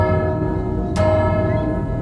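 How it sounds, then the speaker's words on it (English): A processed bell blended with a struck metal wok rings out over a low droning bed, with a sharp metallic hit near the middle that decays into a steady shimmering tone, used for a Sea of Thieves fort. "I actually mixed and blended different bell sounds"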